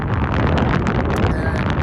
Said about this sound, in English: It's windy. It's been quite windy.